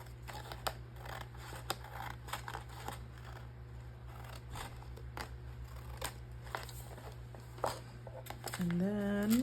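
Scissors trim paper for a handmade paper craft in a series of short, close snips and rustles against a steady low hum, with a voice coming in near the end.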